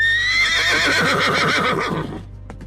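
A horse lets out a loud, close whinny that rises and then flutters down in a trembling neigh, fading out over a low rumble.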